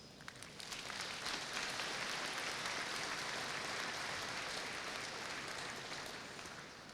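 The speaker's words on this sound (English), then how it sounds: "Please join me in giving another round of applause to our Presidential Leadership Award winners." An audience at a university commencement ceremony breaks into applause after award winners are announced, a broad, even clapping that swells quickly and carries on steadily at a distance, heard alone.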